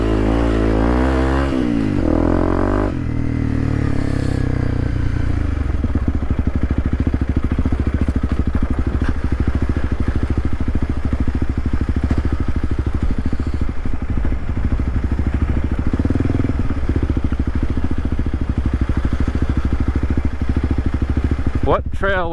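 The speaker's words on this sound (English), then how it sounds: "Bike's gonna get dirty today." A dual sport motorcycle rides a dirt trail off U.S. 60 near Florence, Arizona, its engine droning loud and steady throughout, with revving shifts early on and a rattle at the end.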